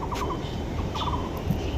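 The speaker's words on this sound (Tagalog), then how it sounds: "Daming ibon." Birds in a forest in the middle of a city call continuously in a dense, fairly loud chorus of gobbling, squawking cries over constant low outdoor noise.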